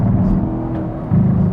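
A Chevrolet Camaro SS 1LE pulls hard in second gear, its engine note a steady close rumble that swells briefly near the end.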